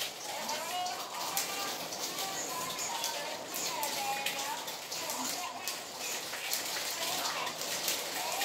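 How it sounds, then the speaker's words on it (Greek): Rain falls steadily outside with a dense patter of drops on surfaces, and a faint voice sounds underneath. "βρέχει έξω."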